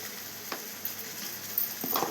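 Coconut powder being stirred into leafy greens curry frying in a pan, a soft, steady sizzle with a few scraping stir strokes, close up and without talk.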